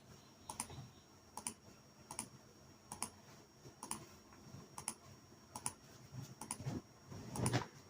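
Someone types a single word on a computer keyboard, with soft, evenly spaced key clicks in a quiet room, ending in a slightly louder cluster of presses.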